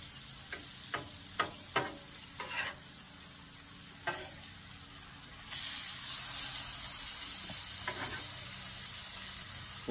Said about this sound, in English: Let's go ahead and get this steak on here. A little bit more butter over here on the side.